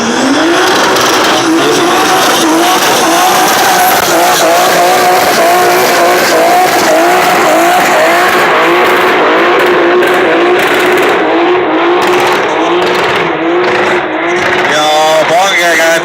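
Drift car doing a burnout with a spinning rear wheel at a drivers' parade, a turbocharged engine held at high revs with screeching tire squeal, loud and continuous throughout, with voices mixed in.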